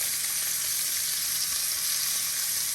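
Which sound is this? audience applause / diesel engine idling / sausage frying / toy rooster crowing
sausage frying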